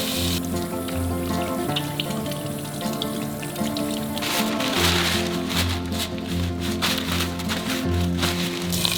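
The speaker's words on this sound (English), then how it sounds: "we want to make sure that we wash our hands with warm water and soap." Warm water runs steadily from a kitchen tap as hands are washed with soap, a continuous splashing hiss heard close with a low steady hum beneath, no talk.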